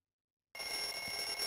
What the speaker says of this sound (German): Wecker, Telefon.